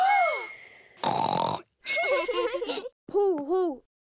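Cartoon pig characters imitate snoring in a Japanese-dubbed Peppa Pig episode, with a few grunting, snorting voiced bursts between short bits of childlike talk.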